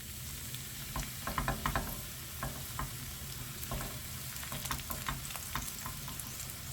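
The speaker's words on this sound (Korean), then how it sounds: "달구어진 팬에 식용유 넉넉히 부어주고 미나리 해물전 시작해 볼게요" Minari and squid seafood pancake batter fries in plenty of oil in a hot pan, a soft, steady crackling sizzle with scattered pops and faint ticking spatters, quiet and close with no voices.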